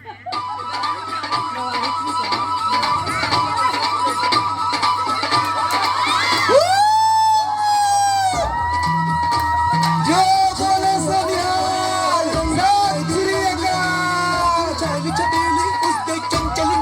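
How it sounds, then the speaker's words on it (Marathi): Loud crowd cheering and shouting at a Punjabi folk performance during a fashion show on Indian traditions, with whoops over music, sustained and dense across the whole stretch. "त्याच्यासाठी जोरदार टाळ्या झाल्या पाहिजेत"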